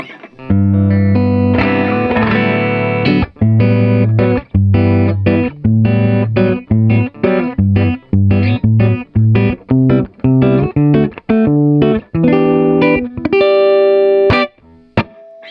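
Electric guitar played through a Vox AC15 tube amp with reverb off, a dry, slightly overdriven tone, a series of chords and picked notes with short pauses between, no reverb tail.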